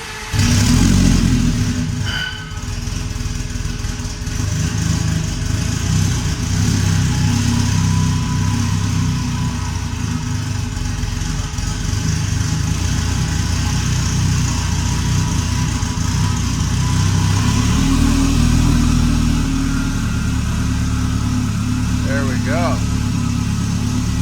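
A Subaru drag car engine fires up and settles into a steady, loud run, droning continuously with a slight swell near the end.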